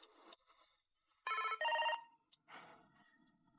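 A telephone rings indoors with two clear electronic bursts in a row, loud and near, and quiet background sounds before and after.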